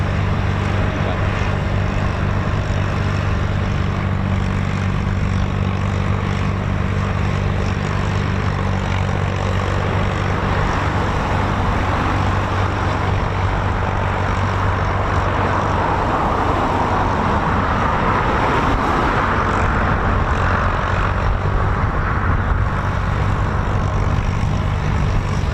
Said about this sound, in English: Nice little aircraft, that, isn't it?